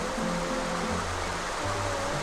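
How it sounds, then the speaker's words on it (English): Steady rushing water from a water spout in the video game Paper Mario fills the whole stretch, a constant broadband gush with low tonal hums underneath, like a game soundtrack layered beneath a flowing spout. "Look at Mario just sitting on that water spout"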